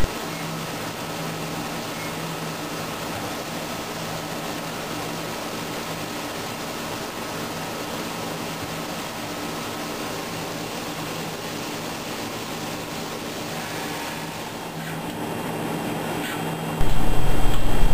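A grinding machine works a cutting tool insert through roughing and finishing cycles, giving a steady, even mechanical drone with a constant hum that barely changes throughout and brightens slightly near the end.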